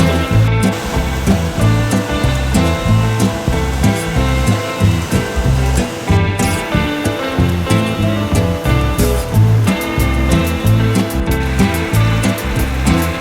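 Rushing river water near Pallebedda Ella waterfall in Sri Lanka roars loud and steady from close by, a continuous broadband wash with a constant musical tone layered over it.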